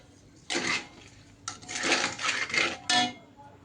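Sugar and jaggery are stirred together in a pot in several bursts of scraping and rustling, with pauses of quiet between strokes and a final short scrape.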